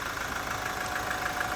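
A 2022 Toyota Hilux 2.8-litre four-cylinder turbo diesel idles steadily, a continuous even rumble with a faint rhythmic clatter, heard close and alone without talk.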